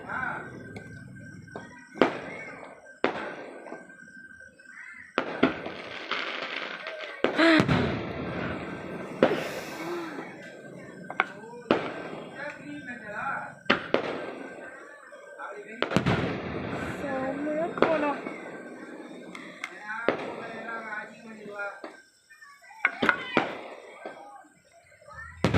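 Firecrackers burst at a Palani temple festival, sharp cracks and popping volleys scattered irregularly over half a minute, some near and loud, others fainter, with people talking between the bangs.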